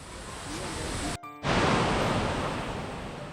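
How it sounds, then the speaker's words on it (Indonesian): Small, clear, cold stream fed by a waterfall near Malang, flowing fairly fast; a steady broadband rush of running water fills the whole clip, close and loud, with a brief dip partway through. "aliran sungai kecil ini adalah air dari air terjun tersebut. Jadi sangat jernih, sangat dingin, dan lumayan deras"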